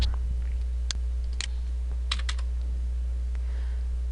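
Scattered keystrokes on a computer keyboard as a test question is entered into exam software, a few light clicks spread unevenly over a steady low electrical hum.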